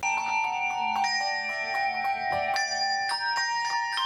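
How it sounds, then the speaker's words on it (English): Handbells ring out in a melodic sequence of bright, sustained tones, new strikes layering over the lingering ring, with no voices. "No, not those bells, the handbells."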